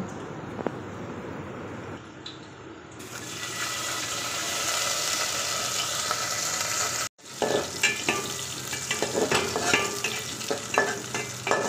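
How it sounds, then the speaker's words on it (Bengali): Cashews and raisins frying in hot ghee with fried onions, a loud, steady sizzle with stirring, briefly cutting out before resuming with scraping and crackling. "এই বেরেস্তার সঙ্গে ঘিয়ের বেরেস্তার সঙ্গে আমি কাজু আর কিশমিশটিকে একটু ফ্রাই করে নেব"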